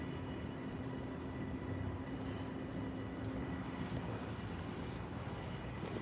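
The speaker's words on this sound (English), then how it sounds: "No wait, that's not fire trucks. That's the subway." A subway train rumbles past near a city park at night, a steady, broad roar that fills the whole clip without breaks, heard from a moderate distance with no talk over it.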